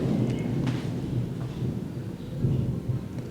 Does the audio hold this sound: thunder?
yes